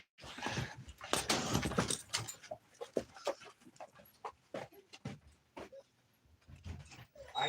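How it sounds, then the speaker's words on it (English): Puppies let out of a pen pant and whimper close by, mixed with scuffling and faint jangling, in uneven bursts that grow quieter toward the end. "Hold on, let me let these puppies out."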